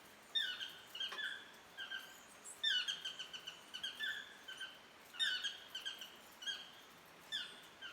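Repeated high, squeaky yellow-throated toucan calls in short bursts, rising and falling like a squeeze toy, fairly close with no other sounds around them.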